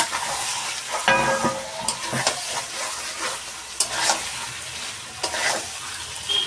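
Chicken curry with potatoes being stirred in a pan, loud sizzling and frying throughout with sharp scraping strokes of a spoon, close up and without talk.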